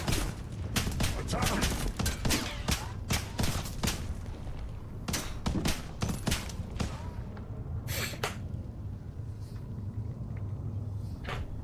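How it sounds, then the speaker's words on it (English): Gunfire in a first-person shooter video game, rapid irregular bursts of sharp shots through the first half, then scattered single cracks over a low rumble, with a voice talking underneath. "Shooting at his nameplate."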